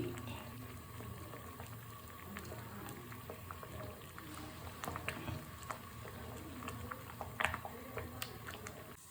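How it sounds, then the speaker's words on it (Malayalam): A pot of red amaranth sambar bubbles on the stove in a quiet, close simmer, with soft irregular pops and gurgles over a low steady hiss. "സാമ്പാർ നല്ലപോലെ തിളച്ച് തുടങ്ങിയിട്ടുണ്ട്"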